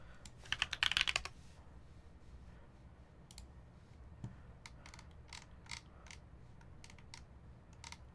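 Keys on a blue Type 60 mechanical keyboard being handled, giving a quick burst of close, crisp clicking and rattling, then scattered single key clacks over a quiet background.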